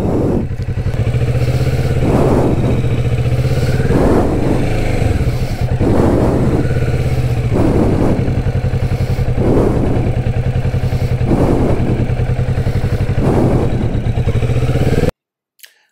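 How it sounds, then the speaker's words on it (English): A Kawasaki Vulcan S motorcycle engine revs loud and close while the clutch is held in the friction zone and the rear brake keeps the bike still. The engine thrums steadily with regular swells, then cuts to silence at the end. "Now I increase the revs, and now I use the rear brake so I don't move."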